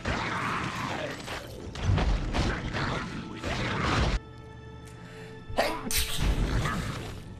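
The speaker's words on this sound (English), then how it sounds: "Sorry, I had to sneeze." A single sharp human sneeze bursts out close and loud against game background sounds from Baldur's Gate: Dark Alliance, with a mechanical creak and whooshes around it.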